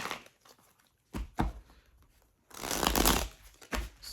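Tarot cards shuffled by hand, several short riffling and sliding bursts with a longer flurry in the middle, close and fairly quiet.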